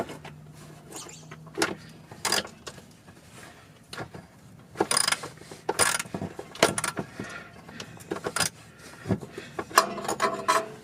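Ratchet wrench tightening bolts on a BMW E63 645Ci driveshaft center support bearing, with short bursts of clicking and metallic clinks coming in uneven clusters, close and fairly loud, with pauses between strokes.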